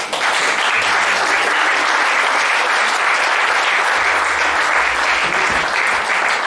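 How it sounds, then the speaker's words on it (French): Audience at a certificate-presentation ceremony applauding the award winners, steady dense clapping from many hands throughout, loud and close. "Je prie qu'on les acclame encore très fort."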